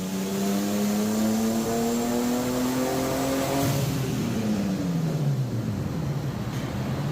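A turbocharged BMW E36 engine runs loud and steady on a dyno, then winds down. A rough, wavering grinding hum from a broken wheel bearing shows as it slows.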